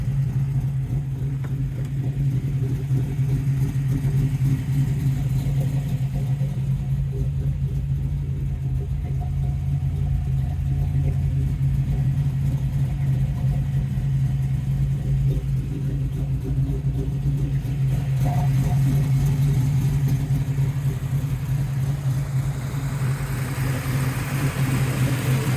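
A 1978 Chevrolet Nova with a 550hp 406 roller engine and TH400 transmission runs steadily, its deep, continuous, loud rumble holding at a near-constant idle throughout.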